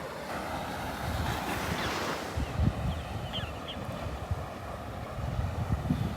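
Surf rolling in at Delnor-Wiggins beach on a breezy morning, a steady wash of waves with wind buffeting the microphone and no voices.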